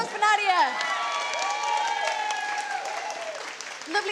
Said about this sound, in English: Round of applause for Nadiya.